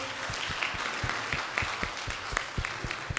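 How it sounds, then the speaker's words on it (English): Parents and guests at a UKG kindergarten graduation ceremony at NAPS school clap together, a steady patter of handclaps with some sharper individual claps standing out, moderately loud and close. "Give a big round of applause to all the parents."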